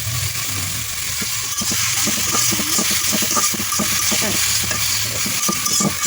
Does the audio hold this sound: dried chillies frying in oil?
yes